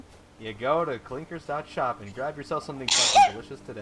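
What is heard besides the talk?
sneeze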